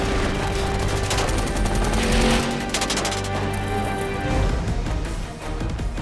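Staged gunfire on a film set for Furious 7, a loud, dense fusillade of rapid overlapping shots and bursts sustained across the whole stretch with no pause, no talk audible over it.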